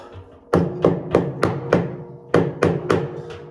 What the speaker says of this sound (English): Maybe it just needs a little tappy tap.